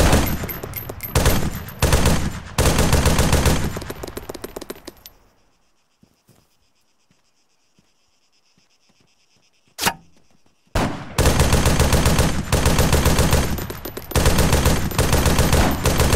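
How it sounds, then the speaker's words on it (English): Video game gunfire rattles in dense rapid automatic bursts, very loud and close, stops for several seconds of near silence with a single sharp shot, then resumes in long sustained bursts. "Enemy fire!"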